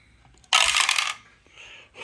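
Two dice rolled for a solo Magic Realm board game session, giving a sudden loud clatter that rattles briefly, then settles into quieter tumbling ticks and stops.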